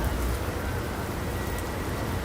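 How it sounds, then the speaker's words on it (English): Heavy rain pours steadily in New York City during a thunderstorm, a dense continuous hiss with low rumble underneath, loud and even throughout with no talking. "Now we're getting a heavy rain. Moderate to heavy rain right now in New York City."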